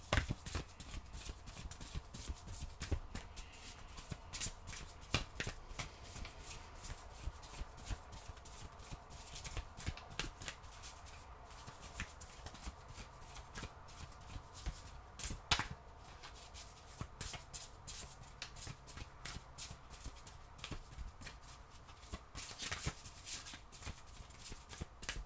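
Oracle cards being shuffled by hand for a tarot reading, a quiet run of soft riffles, slaps and taps repeating irregularly, close by with no talking.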